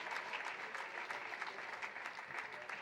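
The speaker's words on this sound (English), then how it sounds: "a nice round of applause all around, standing up over on the far side" Crowd applause in a high school boys basketball gym, a sustained wash of clapping from many spectators, fairly distant and even, continuing without a break.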